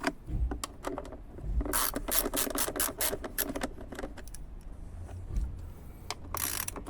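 Ratchet wrench clicking as a bolt is loosened on the air filter housing of a BMW E60 5 Series, rapid close bursts of sharp ticks with brief pauses between strokes.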